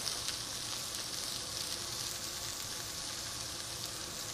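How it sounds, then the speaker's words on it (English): Shallots sautéing in brown butter in a pan give off a steady, close, bright sizzle that holds evenly throughout with no talking. "So we're going to saute some shallots, a little brown butter."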